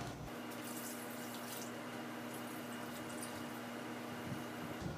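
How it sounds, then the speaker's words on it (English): Water pours steadily into a cooking pot for birria, four cups added in a continuous, even stream with a faint ringing hum underneath and no talking. "then 4 cups of water"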